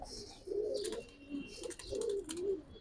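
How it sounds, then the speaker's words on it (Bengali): A pair of Pankhi pigeons, a big-headed male and an ash-eyed female, coos in soft repeated rounded calls, moderately close and fairly quiet, with no talking. "অনেক বড় মাথার কবুতর"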